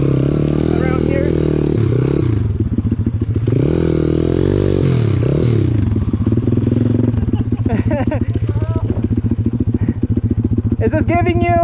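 A pit bike engine revving and riding close by, loud buzzing throttle rising and falling, then a rapid rattling idle, with people talking over it.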